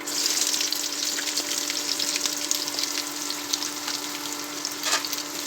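Onions frying in hot oil for a beef gravy, a steady loud sizzle with crackling spits and a faint constant hum running through it, no talking.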